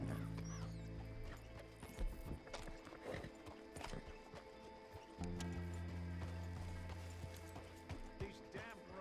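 Horse hooves clip-clop steadily along a rough road in the Red Dead video game, a close rhythmic trot with a whinny and creaking coach sounds mixed in, under a low rumbling ambience.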